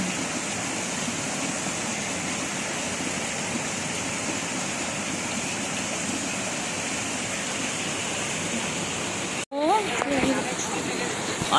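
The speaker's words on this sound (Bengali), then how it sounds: "বাবা খুব জোরে মুষলধারে পানি পড়ছে" A heavy monsoon downpour pours outside in a continuous dense roar that fills the whole stretch; a voice and a brief animal-like sound come in near the end.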